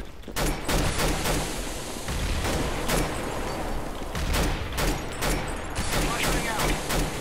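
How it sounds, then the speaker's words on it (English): Counter-Strike: Global Offensive match on the Office map, with a thrown flashbang amid dense gunfire: repeated sharp shots and bursts crowding the whole stretch, loud and busy, with game voice chatter mixed in. "Flashbang out."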